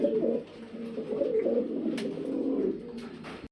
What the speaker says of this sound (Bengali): নর নর কেমন ডাকে দেখেন প্রচণ্ড ডাকে খেপা কবুতর